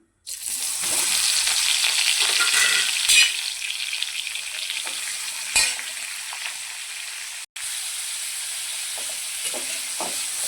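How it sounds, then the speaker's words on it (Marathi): Paneer fries in a ladleful of oil in a kadai with a loud, steady sizzle close by, broken by a few scraping stirs and no talking. "त्याच्यामध्ये एक पळी तेल ओतून मस्त पनीर फ्राय करून घेऊया"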